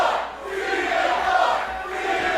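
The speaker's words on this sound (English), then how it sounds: "you can hear the crowd right off the jump show their support for Flowe" A wrestling arena crowd roars in support of Steven Flowe at a JCW event, a dense sustained wall of cheering and shouting that swells and dips slightly without a break.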